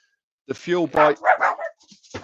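Dogs barking at someone outside, a few quick close barks and yips mixed with someone talking over them indoors.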